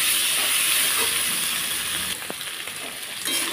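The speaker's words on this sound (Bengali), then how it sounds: "একটু আলুটাকে ভেজে নেব" Potatoes fry in oil for a fish curry with new potatoes, giving a loud, continuous hiss and sizzle that eases slightly partway through and then swells again.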